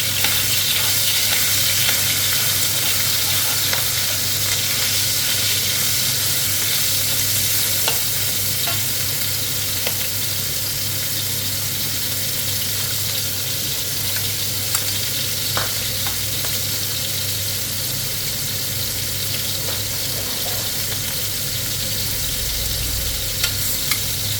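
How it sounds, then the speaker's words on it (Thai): Minced pork being stir-fried in a pan for a holy basil pork dish, a loud, continuous close sizzle with constant scraping and stirring throughout and no talk. "เสร็จแล้วก็เอาหมูสับลงไปผัดนะคะ"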